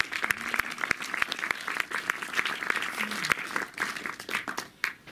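Audience applause in a Montreuil cinema for a film's French producer, a dense crowd of clapping hands sustained for about five seconds, with a few sharper nearby claps standing out and the sound fading toward the end.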